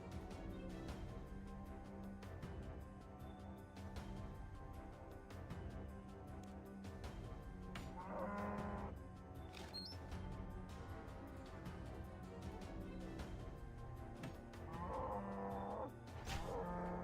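Cows moo in RuneScape 3, with several low drawn-out moos over steady game music and ambient background throughout.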